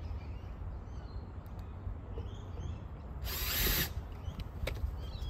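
A power drill drives screws into a bracket on a PVC fence rail outdoors, giving one brief, fairly faint whirring burst against a steady background hiss.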